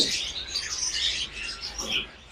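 Pet birds, such as cockatiels, budgerigars and lovebirds at a bird seller's, chirp and tweet in quick overlapping bursts, fairly close and moderately loud, with no talk.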